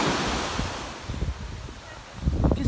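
Seawater washes onto a Tobago beach in soft, repeated surges, with wind noise hissing over the microphone throughout.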